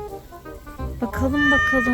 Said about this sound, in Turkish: Dışarıda bir yavru kedi sesi var.